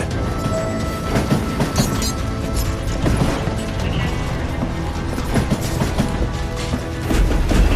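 A moving train in the Western shooter game Call of Juarez: Gunslinger clanks and rattles with dense metallic ratcheting and grinding, loud and continuous with scattered crashing hits.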